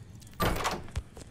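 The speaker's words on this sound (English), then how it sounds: "Open the door." A door swings open in the Roblox game Doors, a single hollow thud with a brief whooshing creak followed by a soft knock, short and close against a quiet game background.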